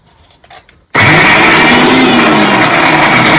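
A mixer grinder blends a drumstick chutney with agathi leaves, curry leaves and salt, starting abruptly after a few soft knocks and then running as a loud, steady whirring grind close by.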